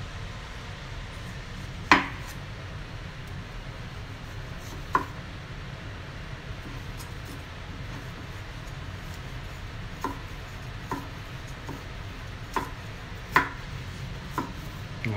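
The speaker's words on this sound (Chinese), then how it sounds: "接下来就是切洋葱" A knife chops an onion on a cutting board, giving scattered single sharp taps spaced a second or more apart over a low steady background, fairly faint and without talk.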